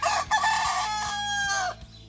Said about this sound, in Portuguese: Galo canta e canta cedo.